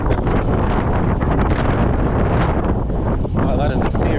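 A strong headwind buffets the microphone of a cyclist riding a Giant TCR road bike, a loud, constant rushing blast that fills everything without letup.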